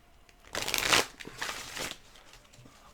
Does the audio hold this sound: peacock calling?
no